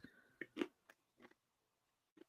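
Someone bites and chews crunchy, sugary white chocolate Halloween bark close up, giving a few quiet crunches in uneven bursts separated by brief silences.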